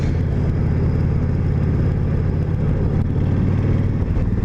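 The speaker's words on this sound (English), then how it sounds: "Out on the Honda VTX1300R" A Honda VTX1300R cruiser motorcycle being ridden, with a steady, loud low engine rumble and wind noise throughout and no change in pace.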